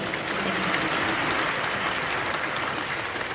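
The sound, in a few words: applause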